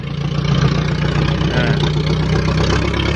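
A tractor engine runs continuously nearby in a cassava field, a loud, steady mid-low diesel drone with a constant throb and no pauses.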